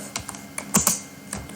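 A few quick keystrokes tap on a computer keyboard while a C program is written, close and crisp, in short irregular clicks with one louder cluster partway through.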